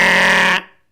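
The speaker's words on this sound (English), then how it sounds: "Give another blast of the horn, Bert!" A boat horn blast sounds in foggy waters, a single loud sustained tone that cuts off sharply and leaves a short fading tail.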